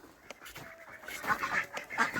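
Ducks kept in a farm hoop house during cold winter weather give a run of close, repeated quacks and honk-like calls, bunched in quick bursts that grow louder toward the end.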